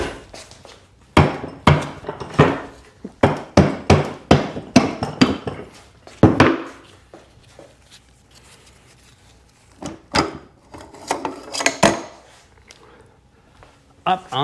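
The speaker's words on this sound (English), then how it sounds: "and rubber hammer again." A rubber hammer strikes Seadoo engine pistons in their cylinders on a workbench, a series of sharp, close dull knocks in irregular clusters with short pauses between.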